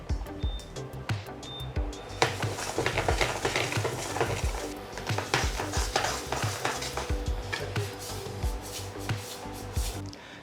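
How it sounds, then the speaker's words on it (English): Sesame seeds dry roasting in a pan for a roasted sesame sauce, stirred continuously: steady scraping and rattling of seeds against the pan with soft sizzle, an even rhythm over about ten seconds, no talk. "We'll take half pack of sesame and start dry roasting it."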